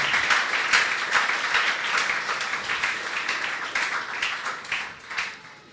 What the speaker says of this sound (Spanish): Aplauso, gloria a Dios.